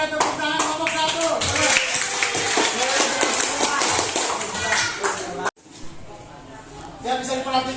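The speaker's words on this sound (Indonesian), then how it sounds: "Oke, tepuk tangan kelompok 1." A classroom of students applauds a presenting group, dense quick hand clapping that carries on for several seconds, stops abruptly, then gives way to a teacher's voice and chatter.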